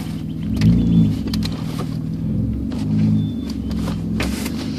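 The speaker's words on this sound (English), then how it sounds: "Car moves." A car engine, just brought out of storage, rumbles low and steady nearby, swelling slightly a couple of times as the vehicle moves, with no talking.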